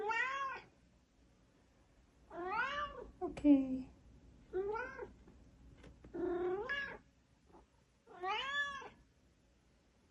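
A pet cat meows five or six times in drawn-out, rising-falling calls spaced a second or two apart, close and fairly loud, with a person briefly talking quietly between them.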